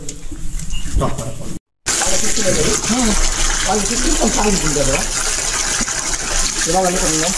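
Water gushes steadily into a container for goats, a loud continuous pour that runs almost throughout with one brief break, while someone talks over it.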